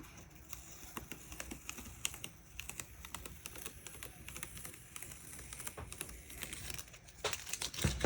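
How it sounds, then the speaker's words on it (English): Strips of tape peel and crinkle away from the paper of a painting in a quick run of soft tearing and crackling snaps, close and quiet, growing denser near the end. "always pull the tape away from your painting like this"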